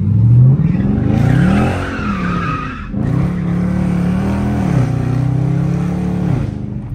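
Dodge Charger RT sliding sideways through a corner, loud continuous engine roar with rising and falling pitch and tire squeal, a brief dip near the three-second mark before the engine pulls hard again.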